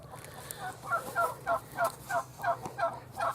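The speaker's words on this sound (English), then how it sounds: "And them turkeys are loud." Turkeys in a pen gobble in a rapid, bubbling series of rattling calls, fairly close and loud, repeating in quick succession.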